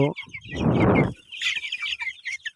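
A sick 20-day-old tiger chicken chick clucks and chirps while being weighed, starting with a loud burst of close calling, then a run of quicker, higher peeps that continues on its own.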